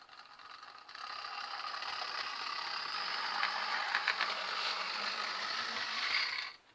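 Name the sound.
OO gauge Class 58 model locomotive motor running on layout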